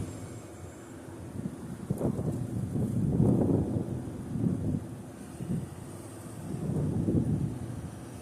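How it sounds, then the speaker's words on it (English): Strong outdoor wind on a chilly day near traffic lights, rumbling microphone buffeting that swells and fades in several gusts over eight seconds, with no voices. "It's pretty windy out here, so all the lights are shaking."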